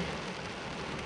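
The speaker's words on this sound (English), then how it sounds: "the rain was just as bad here" Steady rain pours down on an off-grid homestead in central Portugal, a dense, continuous hiss of drops hitting surfaces, loud and close with no voices.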